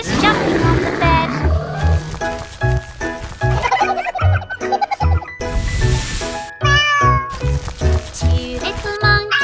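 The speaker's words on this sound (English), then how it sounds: "Cat." A cat meows several times, loud and close, mixed into a children's song with music and singing.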